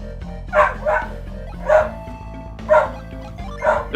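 A dog in the video game Golden Sun: The Lost Age gives five short, separate howling yelps spaced about a second apart. Each one rises clearly over a steady musical drone.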